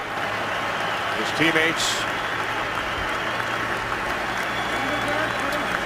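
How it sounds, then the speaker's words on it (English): Stadium crowd giving an ovation to injured player Sherrod at a 2011 NFL game between the Packers and the Chiefs: steady, dense applause and cheering throughout, under a commentator talking. "Sherrod receives an ovation from the crowd."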